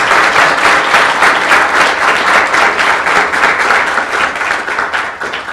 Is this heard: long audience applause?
yes